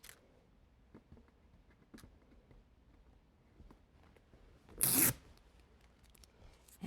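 A single short, loud rip of duct tape being pulled off the roll cuts through an otherwise quiet room, surrounded by faint small handling noises.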